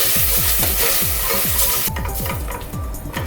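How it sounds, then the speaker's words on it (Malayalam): Lemon juice goes into melted sugar in a pan for caramelized plantain, with a loud, steady sizzle and rhythmic stirring strokes close by, and the sizzle shifts partway through. "മെൽറ്റായി കഴിയുമ്പോഴത്തേക്ക് നമ്മുടെ ലെമൺ ജ്യൂസ് ഇതിലേക്കൊന്ന് ഒഴിച്ചു കൊടുക്കാം."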